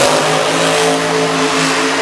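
Monster Jam monster truck engine roaring and revving at a San Diego stadium show in 2015, a loud steady growl with layered harmonics and slight pitch shifts, close and continuous with no voices.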